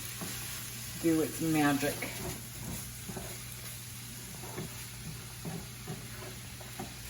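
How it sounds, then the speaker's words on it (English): Egg roll mix with a splash of vinegar sizzles in a pan while being stirred, a steady frying hiss with soft utensil knocks, and a person speaks briefly over it. "Give that another stir"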